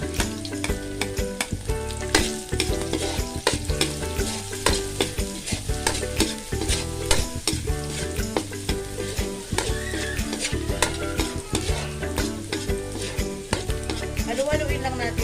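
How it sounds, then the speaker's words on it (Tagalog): Garlic and onion stir-fried in a pan for a squid dish, with a steady loud sizzle and frequent scraping stirs running throughout, no voices. "Haluin lang natin hanggang sa lumabas yung pinakang aroma ng bawang at sibuyas"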